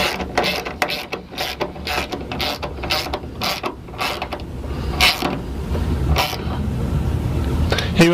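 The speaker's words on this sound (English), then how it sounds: "So I'm going to use a 10mm socket that will go ahead and tighten these bolts up." A ratchet with a 10mm socket tightens metric bolts on a horizontal shelf being installed in a Ford Transit Connect van, giving repeated sharp clicking bursts in a steady rhythm, close and fairly loud.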